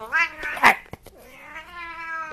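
A cat meows and caterwauls close up, with two strained, drawn-out yowls, a short click, then a longer whining meow, all loud and with no talk.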